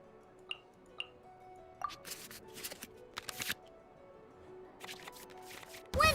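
Cards shuffled back into the draw pile in the Genshin Impact card game: a string of soft, clicky digital card flicks and swishes spread across the span, fairly quiet, ending in a brighter louder flourish, with no talking.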